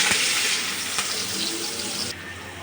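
Chopped onion, garlic and two green chillies with fenugreek seeds sizzle steadily in hot oil, a close, dense crackling frying hiss that eases slightly toward the end.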